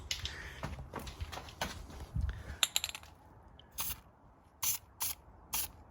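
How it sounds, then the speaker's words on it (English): A few short hissing bursts of an aerosol spray onto a metal tray setup to prevent rust, close by, separated by brief pauses, following some clattering and handling noises. "Bit of spray."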